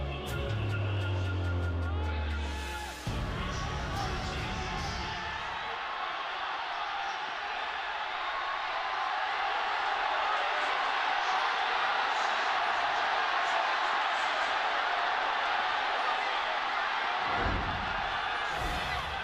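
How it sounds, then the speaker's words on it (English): Arena crowd at a League of Legends esports match, where a team faces Invictus Gaming before a fifth game. A loud, sustained roar of cheering swells after a brief low rumble at the start and holds steady until near the end. "The roar from the crowd says it all as we get into this 5th game."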